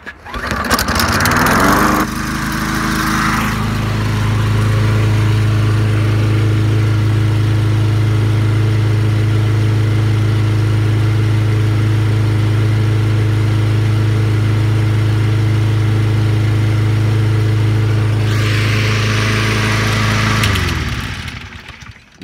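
A Kohler Courage XT16.75 engine on a Toro Recycler lawn mower, freshly repaired carburetor, starts and runs at a loud, steady, even drone close by for about twenty seconds without surging, then shuts down.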